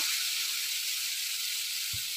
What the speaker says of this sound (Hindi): हल्का सा इसको यहाँ पे हम फ्राई करेंगे